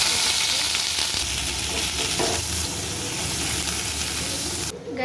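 Chopped vegetables hit hot oil and fry with a loud, steady crackling sizzle, broken by occasional stirring scrapes, before cutting off abruptly at the end.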